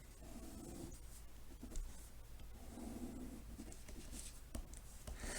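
Marker or pen scratching across a board while sketching a graph of linear inequalities, a steady faint scraping run with brief pauses and taps, no talking.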